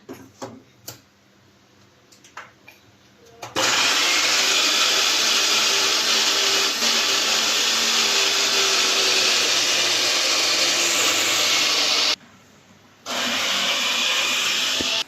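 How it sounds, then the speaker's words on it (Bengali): An electric blender grinds ginger and garlic at home, roaring loud and steady for several seconds, cutting out briefly and then starting again, after a quieter stretch of faint clicks and household sounds. "আম্মু আদা রসুন ব্লেন্ড করে নিচ্ছে"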